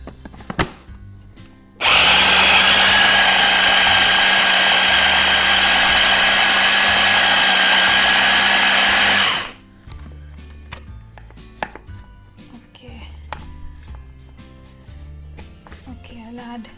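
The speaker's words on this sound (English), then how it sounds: "And blend this again." An electric blender whirs butter into a magic bars mixture, a loud steady motor roar that starts abruptly, runs for about eight seconds and cuts off, followed by quieter kitchen clatter.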